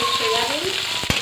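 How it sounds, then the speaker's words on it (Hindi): Soybeans frying with chillies in a pan while making Maggi noodles with paneer, a steady close sizzle with a brief stirring knock near the end; a voice is faintly present. "और उसको भी मिर्ची के साथ फ्राई कर"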